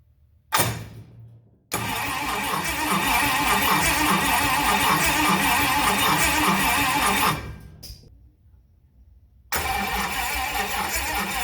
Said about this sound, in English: I'm going to try to get some cranking first without any fuel